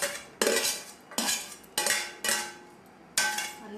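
A spoon stirring fruit salad of banana, apple and pomegranate in a bowl makes about six loud, sharp clinks against the bowl, each ringing out and fading before the next, with no talk.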